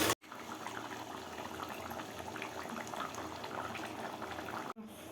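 Crab curry simmers in a pot after water has been added, giving a steady, close bubbling and gurgling that continues unbroken on its own.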